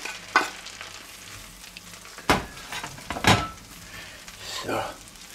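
Bread dumpling pieces frying in butter with bacon and onions, a steady close sizzle broken by several sharp clatters and scrapes of a spatula stirring the pan, with a voice speaking over it.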